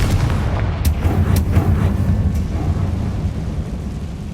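A Confringo blasting spell exploding in Hogwarts Legacy: a loud, close, rumbling blast followed by a sustained low roar that slowly fades.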